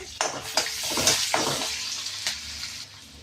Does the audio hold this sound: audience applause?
no